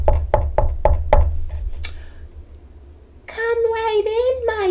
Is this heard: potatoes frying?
no